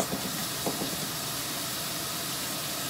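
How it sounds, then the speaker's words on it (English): Water runs steadily over quinoa in a colander, a soft, even hiss of rinsing that holds constant and fairly faint throughout, with no one talking. "put it in a colander real quick and just like rinse it out"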